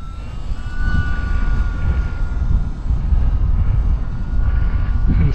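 A small E-Flite UMX Waco brushless RC biplane flies at about half throttle on a windy day. A steady, moderately loud motor drone blends with gusty wind noise throughout, with no voices.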